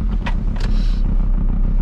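A car, a camper bus, driving along the winter coast road toward Hel in Poland, with a steady low road rumble and engine drone close by and no voices.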